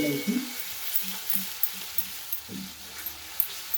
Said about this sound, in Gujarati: ડુંગળીને આપણે થોડી વાર માટે સાંતળી લઈશું।